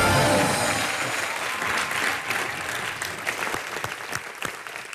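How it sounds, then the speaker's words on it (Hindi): Studio audience at a comedy talk show bursts into loud, dense applause that starts strongest and tapers slightly over five seconds, individual claps growing more distinct toward the end. "एक बार जोरदार तालियां"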